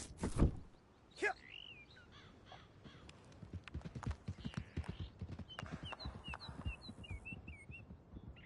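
Horse hooves clip-clopping in Red Dead Redemption 2, a steady run of hoofbeats on the ground with crows cawing and birds chirping around it, preceded by a couple of sharp knocks.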